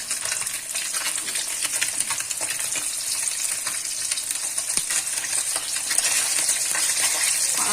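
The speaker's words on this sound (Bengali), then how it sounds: "ভাজা চাপালাম" Pieces of katla fish fry in hot oil in a pan with a steady, loud, close hiss and crackle, and occasional light clinks come through the sizzle.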